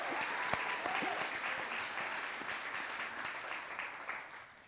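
Audience applause at a talk in Kiama, a dense continuous patter of many hands with a few sharper near claps, tapering slightly toward the end.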